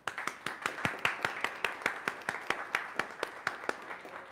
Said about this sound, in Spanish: damos la bienvenida a nuestro hermano en Cristo con un gran aplauso